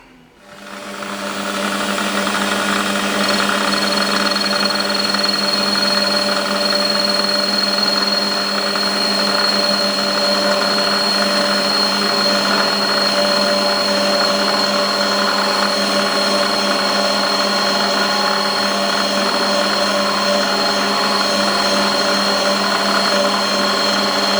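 A milling machine runs steadily while cutting a radius on the edge of a tap wrench in a workshop, a loud continuous motor whine with sustained tonal hum and no talking.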